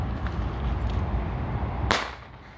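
China Böller B firecracker bursting in the air, a single sharp crack near the end after a stretch of steady low rumble, followed by a quieter tail.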